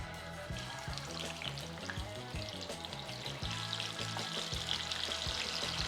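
Chicken wings for garlic Parmesan wings drop into hot frying oil, which bubbles and sizzles continuously at close range with a faint pouring trickle.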